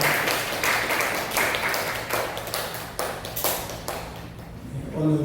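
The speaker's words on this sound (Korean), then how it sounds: "박수하겠습니다." Church congregation at a Sunday morning worship service clapping together, bursts of hand claps in a loose rhythm that fade out toward the end, with a low sustained tone and a voice coming in at the close.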